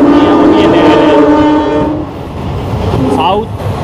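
A fast-moving train on the line between Sadulpur and Hisar junctions in India, loud and close, with a sustained horn blast followed by rushing wheel and carriage noise.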